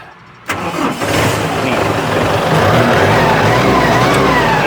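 An M7040 tractor engine cranks and fires after a quiet moment, then settles into a loud, close, rough idle that builds slightly.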